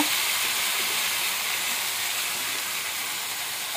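Beans and potatoes stir-frying in hot oil in a wok give a steady, even sizzling hiss, close and moderately loud, with no voices over it.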